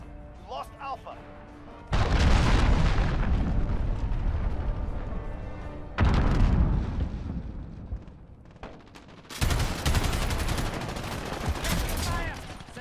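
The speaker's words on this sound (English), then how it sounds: "Allied cruise missile launched." Cruise missile strike explosions in Call of Duty Modern Warfare on the Grazna Raid map: several loud, heavy blasts in separate bursts, each with a roaring tail and rumbling debris, set against quieter gunfire.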